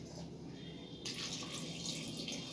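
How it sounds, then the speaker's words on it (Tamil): Water poured from a tumbler into a pressure cooker holding plantain with turmeric and salt, a soft hiss that swells into a brighter, steady splashing pour halfway through. "1 டம்ளர் தண்ணி ஊற்றிருக்கேன்."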